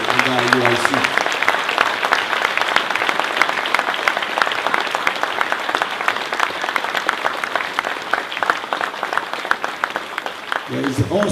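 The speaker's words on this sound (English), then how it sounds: "I want your guys to give a hand applaud for Christ's sake that's gathered these souls in our UIC." A congregation claps loudly and steadily at a Passover class, the dense applause continuing for several seconds with a voice speaking over it near the end.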